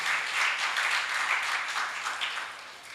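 An audience at a Braille birth anniversary celebration in Ongole claps in a steady, moderately loud burst of applause that tapers slightly toward the end, with no talking over it.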